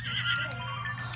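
A horse in a video game gives a short, loud whinny, rising briefly and ending in a low snort.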